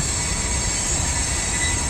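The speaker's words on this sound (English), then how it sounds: "Shout out to that train" A train rolls past outdoors, a steady loud rumble and rush of rail noise holding constant throughout with no speech.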